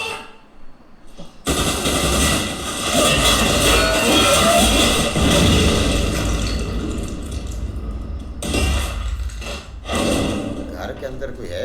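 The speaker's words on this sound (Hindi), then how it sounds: "ये ऐसे ही गोलियां चला रहे हैं।" Rapid bursts of gunfire crackle loudly for several seconds amid chaotic noise, stopping briefly before another volley starts.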